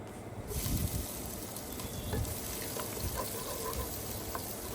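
Chopped onion hitting hot oil with cinnamon, cardamom and cloves, a loud continuous sizzle and crackle that swells just after the start and stays dense throughout.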